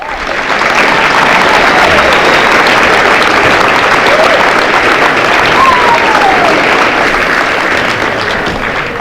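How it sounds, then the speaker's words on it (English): A crowd at a high school football signing day event claps for the players, loud sustained applause that holds steady for the full stretch with no talking over it. "So I think that deserves an applause."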